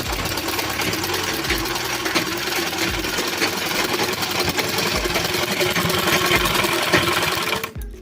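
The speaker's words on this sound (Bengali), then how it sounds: "দেখো বন্ধুরা কেমন করে সেলাই করছে" Sewing machine running a continuous straight stitch along a folded cement sack, a steady close mechanical whir with rapid needle rhythm that stops abruptly near the end.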